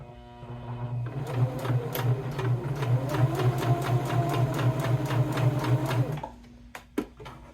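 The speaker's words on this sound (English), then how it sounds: "So let's go over to the sewing machine. Okay, we're going to sew right down close to this bottom edge of the crayons." A sewing machine stitches across the bottom edge of crayons in a fabric card holder, its steady rapid needle rhythm running loud and close for about six seconds before stopping, followed by a couple of small clicks.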